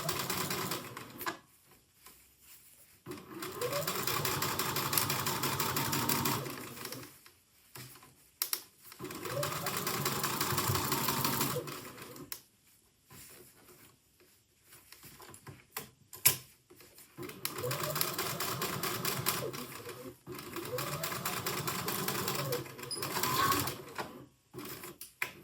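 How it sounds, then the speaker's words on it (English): A sewing machine running a walking foot for top stitching, three long steady whirring runs separated by pauses, with quiet handling noise and some talk in the gaps. "So I'm going to top stitch using my walking foot."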